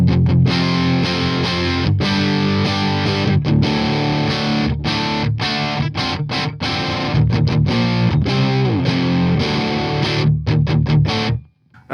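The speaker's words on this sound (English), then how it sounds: "I could just chug chords for hours." Electric guitar chugging distorted chords through a Tube Workshops Marshall-style tube amp, loud and continuous with rhythmic palm-muted stops and gaps, ringing out before cutting off at the end.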